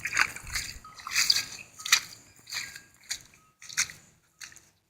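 Feet wading through flooded ground after a thunderstorm, a series of irregular sloshing splashes, close and moderately loud, with quiet pauses between steps.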